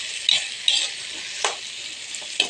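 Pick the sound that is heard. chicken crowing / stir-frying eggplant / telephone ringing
stir-frying eggplant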